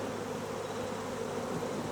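Honey bees buzz inside a manuka honey hive holding queen cell cups, a steady, dense hum with no pauses, close and fairly loud and filling the whole moment without any voices.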